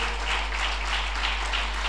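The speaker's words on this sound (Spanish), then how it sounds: "Un aplauso a Jesús." Steady wash of applause from a church congregation at an evangelical service, a continuous even patter with a low hum underneath, no voices over it.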